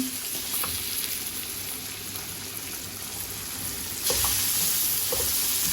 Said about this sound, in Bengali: আমি এইভাবে সাদা করল্লা ভাজিটা করে থাকি